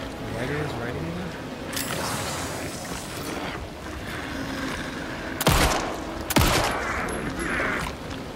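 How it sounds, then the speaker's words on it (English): Gunshots in the video game Alan Wake 2, two loud close blasts near the end over steady game ambience and ongoing talk, following repeated shots at an enemy. "how many times do you have to shoot this guy?"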